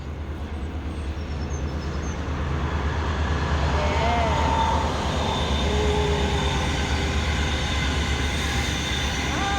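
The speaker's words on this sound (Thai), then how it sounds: "รถไฟเข็นของไปแล้วทุกคนนู่นเห็นไหม" A freight train rumbles past near the Saale river with a steady low roar and faint metallic squeals, while people talk nearby.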